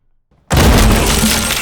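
After near silence, windows shatter all at once as a door bursts open in splinters, a sudden loud crash of breaking glass that sprays out and keeps rattling. Nobody talks.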